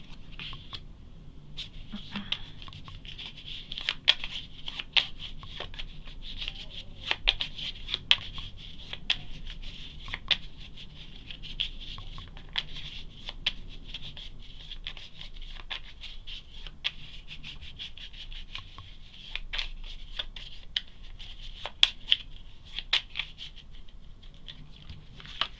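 Cards of a Hero Realms deck are shuffled by hand, giving soft riffles and quick papery flicks in irregular bursts, quiet and close.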